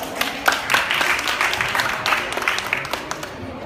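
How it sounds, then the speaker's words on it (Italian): Applause from an audience at a style and etiquette lesson as the model Bianca is introduced, a short burst of mixed clapping with a few sharper claps, fairly close and continuous. "Un applauso"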